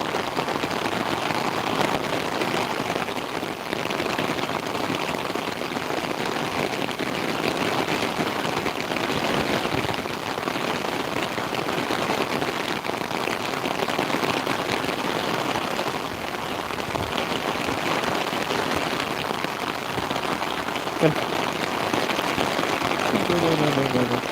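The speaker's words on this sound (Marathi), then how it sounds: "मुसळधार असा पाऊस चालू झालेला आहे आमच्या इकडे" Heavy rain pours down steadily beside a river, a dense unbroken hiss of drops striking surfaces that stays loud and constant throughout.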